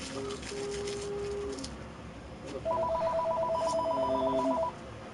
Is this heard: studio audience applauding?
no